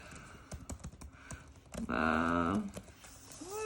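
Scattered Gateway laptop keyboard key clicks over about two seconds, then a louder harmonic tone briefly takes over before faint clicking resumes.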